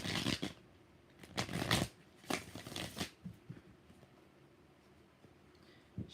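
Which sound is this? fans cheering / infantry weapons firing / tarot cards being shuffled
tarot cards being shuffled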